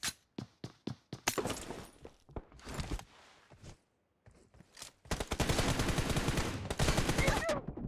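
Gunshots in a shooter video game ring out as quick separate cracks, then swell into dense, continuous automatic fire that runs loud and near for several seconds.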